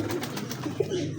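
Golden and Salkoti gulatu pigeons give a couple of short, soft coos close by, brief and unaccompanied by talk.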